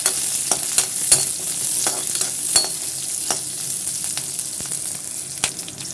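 Onion and green chilies sauté in a pan for vallarai keerai chutney, giving a steady, close sizzle broken by frequent sharp taps and scrapes of a stirring spoon.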